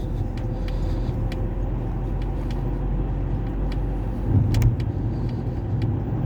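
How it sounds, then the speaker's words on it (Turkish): A car in third gear on a driving-test road course in Ataşehir, with a steady low engine rumble and road noise heard from inside the cabin, a brief louder swell near the end. "Evet üçüncü vitesi aldık şu anda. Devam ediyoruz."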